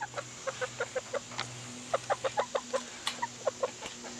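Chickens clucking in a rapid series of short, close calls with a brief pause midway, over a low steady hum.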